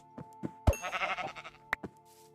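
Sheep in the video game Minecraft bleat in a quick series of short, nasal calls, several close together and fairly loud, with a couple of soft knocks around them.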